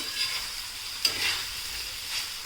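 Cluster beans stirred and sautéed in oil on a tawa, a soft continuous sizzle with a single sharp spatula scrape partway through; no voices.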